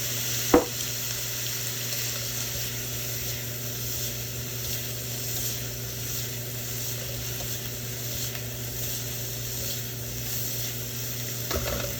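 Soy sauce sizzling as it heats in a hot pan during fried rice cooking, a steady close frying hiss throughout with a sharp clink near the start and another near the end.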